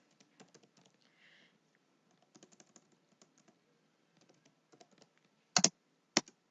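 Code is typed on a computer keyboard, with sparse, light key taps in scattered bursts and a couple of louder, sharper key strikes near the end, with no talking.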